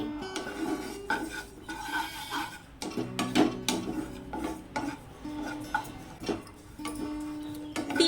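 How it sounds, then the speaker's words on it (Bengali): Sesame seeds dry-roasting in a pan over a low gas flame while being stirred continuously, giving steady scraping and clinking of utensil against metal with faint crackle, close and unhurried throughout. "তিলটাও ঠিক চালের মতো করেই ভাজবো গ্যাসের ফ্লেম লো করে দিয়ে কন্টিনিউ নাড়িয়ে নাড়িয়ে"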